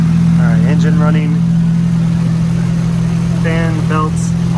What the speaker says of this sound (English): All right, engine running.